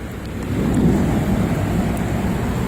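Thunder rumbles during a hail storm in Lewis County, West Virginia. A deep, rolling roar swells after a brief lull and holds loud and steady over the hiss of falling precipitation.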